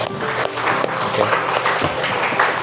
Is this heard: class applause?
yes